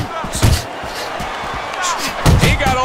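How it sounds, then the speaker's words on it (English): Boxing punches land in the Fight Night Champion video game, including an uppercut. Sharp, heavy thuds hit at irregular intervals over crowd noise and commentary. "That was a solid uppercut."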